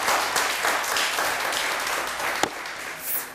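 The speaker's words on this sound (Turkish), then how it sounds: "Alkış gelsin." Studio audience applause on the Turkish television word game show Kelime Oyunu, a sustained wash of clapping from many hands with one sharper clap standing out near the end.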